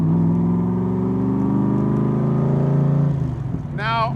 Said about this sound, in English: It goes a badass Challenger right there